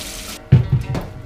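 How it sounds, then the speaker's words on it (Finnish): Hot tap water runs over a homemade kebab log under a kitchen faucet, a brief burst of splashing flow that starts after a quiet moment and continues unevenly, close and fairly loud. "Sitten taas vähän tulikuuma veden alle tätä oma tekemää kebabia."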